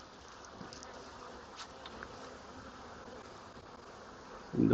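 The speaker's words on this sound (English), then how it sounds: "So there's a lot of bees up here." A swarm of bees buzzes around a hive box, a low, steady, fairly quiet hum with a few louder passes near the end, with no talking.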